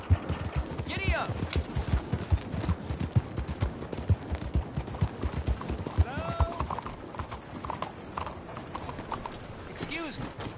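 Horse hooves clip-clop at a steady gallop in the Red Dead Redemption 2 game world, rhythmic and close, with an occasional whinny and voices talking over the hoofbeats.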